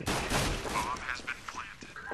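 Rapid bursts of gunfire in Counter-Strike: Global Offensive during a team versus match, dense and crackling at first, then thinning into scattered shots, fairly quiet overall with voices mixed in.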